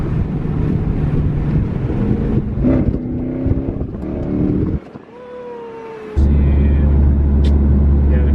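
A car drives on the road, its engine droning steadily under wind noise, then dips as a gear changes and pulls again in third with a weak, strained hum.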